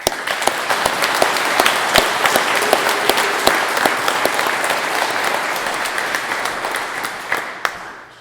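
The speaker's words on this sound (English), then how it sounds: "So if we can give them a round of applause" A crowd at a fire department pinning ceremony applauds volunteer firefighters, sustained close clapping with sharp individual claps standing out, steady for several seconds before tapering off at the end.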